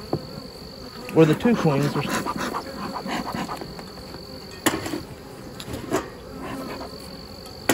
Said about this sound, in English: These are still some mean bees.